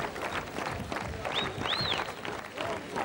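Crowd applause for a sports team at a children's sports competition in Pécs, a busy, sustained clapping wash with whistles and crowd noise mixed in.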